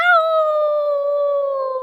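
A voice imitates a dog's howl in a single sustained, wavering cry that slowly falls in pitch, loud and close, with nothing else heard.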